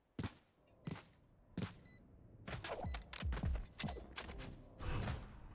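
Gunfire in a Valorant match: a string of sharp shots, first spaced single cracks, then a denser cluster of rapid bursts, fairly quiet overall.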